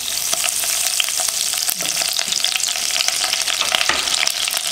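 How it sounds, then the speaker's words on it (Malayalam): Curry leaves sizzle in hot vegetable oil for a Malabar chicken curry, giving a loud, dense crackling hiss with sharp spits and pops, close and continuous with no talk. "ഓയിൽ നന്നായി ചൂടായി. അതിലേക്ക് ആദ്യം തന്നെ കുറച്ച് കറിവേപ്പില ചേർക്കാം."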